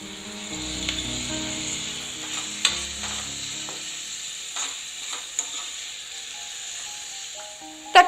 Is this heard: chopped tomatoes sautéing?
yes